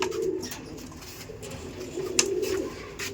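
Pigeons kept in a Behala fancier's collection coo close by in rolling low bursts that swell and fade, several birds overlapping, with a brief sharp flutter or scrape partway through.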